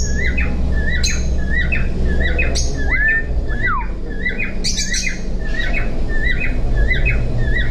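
A pet bird chirps in a steady run of quick repeated tweets with a couple of rising whistles, close and clear over a low background hum.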